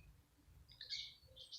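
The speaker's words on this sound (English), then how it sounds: "the birds are singing" Birds sing outdoors in better morning weather, giving a few short, faint, high chirps and tweets over quiet low rumble.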